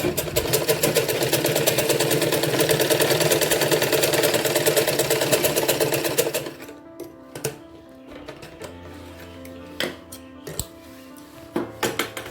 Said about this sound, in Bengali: এখানে আর একটা সেলাই দেবো